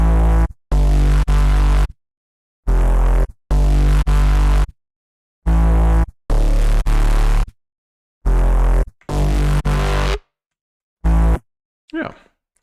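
Layered synth bass from an electronic production plays in short, heavy, rhythmic stabs separated by silent gaps, loud and dry with no talking over it.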